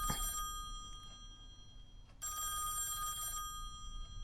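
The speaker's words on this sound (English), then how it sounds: "The phone." An old telephone bell ringing in the horror video game Song Of Horror, two bursts of shrill trilling separated by a brief pause, clear over a low ambient hum.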